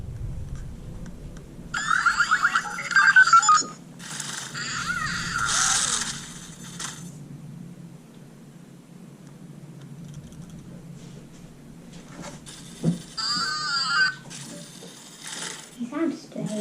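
A Spinmaster Boxer robot toy with a repaired speaker gives off bursts of chirpy, distorted electronic sounds. They come in short clusters, separated by quieter stretches of handling noise and a faint background hum.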